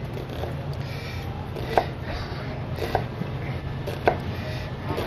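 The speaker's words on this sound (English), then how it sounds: "This is a quick little way to chop up the onion" A knife chopping an onion on a cutting board, a few sparse, light taps spaced about a second apart over a steady background hum, close but quiet, with no talking.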